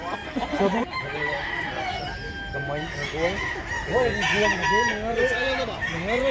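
A rooster, a large tall gamecock in Mantalongon, Barili, Cebu, crows several times in wavering calls mixed with clucking, while people talk nearby.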